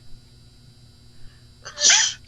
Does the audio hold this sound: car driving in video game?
no